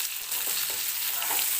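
Stuffed okra (bharli bhendi) being stirred in a hot pan, giving a dense, even sizzle with soft scraping touches of a spatula, close up and without speech.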